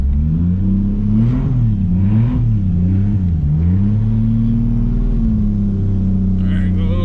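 A Toyota Supra MKIV engine revs hard and steadily during a burnout, a loud, close, continuous roar that rises and falls slightly in pitch for several seconds.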